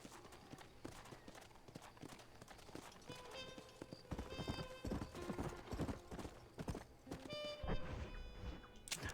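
Horse hooves clip-clop in Red Dead Redemption, quiet and distant, and one whinny rises over the trotting, with music and game ambience underneath and a voice speaking now and then.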